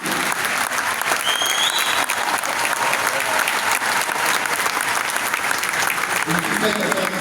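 Loud, dense applause fills a hall, a sustained crowd of clapping hands that runs unbroken for about seven seconds, close and even in level.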